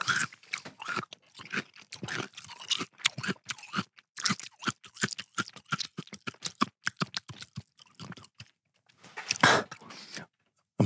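Raw celery being chewed and crunched close up in a string of sharp, rapid, crisp bites with brief pauses in between, fairly faint, with no talk over it.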